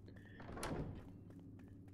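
Door opening in the video game Portal Knights: a quiet, soft thunk with a short scraping slide, followed by a sudden louder hit at the very end.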